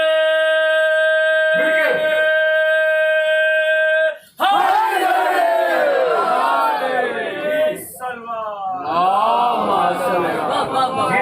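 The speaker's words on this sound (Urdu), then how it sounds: "نعرے" At an eighth-of-Muharram mourning gathering in Muzaffarnagar, a large crowd raises chanted slogans in loud, full-throated unison. A sustained tonal voice comes first, then a brief pause, and then the massed voices rise and swell in waves.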